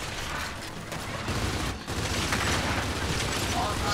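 Dense, continuous gunfire in the video game Gears of War 4 forms a steady crackling wall of rapid shots with a brief dip partway through, and a voice can be heard faintly under the noise.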